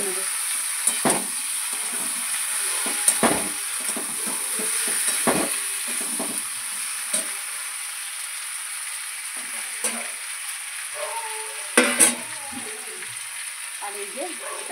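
Small tengra fish sautéing in a pan give a steady frying sizzle with intermittent stirring clatter and scrapes, fairly close throughout.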